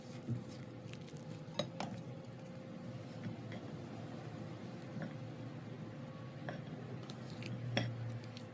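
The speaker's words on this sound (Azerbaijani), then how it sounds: "Və qarışdırıram." Dough ingredients for Sheki külçə are stirred together in a bowl after the flour is sifted, giving soft scraping and occasional sharp clinks of utensil against the bowl over a steady low background hum.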